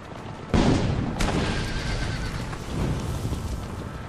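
A horse in the video game Assassin's Creed Brotherhood gives a loud, close whinny, then hooves clip-clop on and off over a steady rain-like ambient wash, with no talking.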